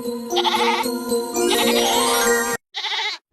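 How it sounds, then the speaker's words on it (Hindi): A goat bleats loudly and repeatedly in a cartoon, long wavering cries close by, then a brief pause and one shorter bleat. "यह तो बकरी के चिल्लाने की आवाज है"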